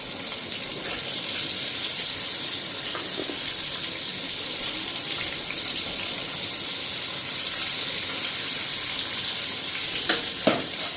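Pointed gourd (potol) fries in a small kadai with a loud, steady, even sizzle that stays constant throughout, broken by a couple of faint clicks near the end.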